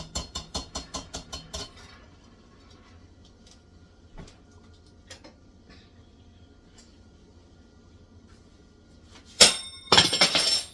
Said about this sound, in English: Oops. That was a spoon.